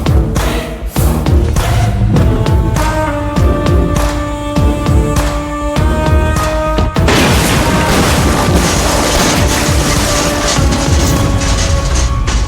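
A bomb explodes in an action scene, with heavy booming blasts and crashing debris layered under loud dramatic music, dense and forceful throughout.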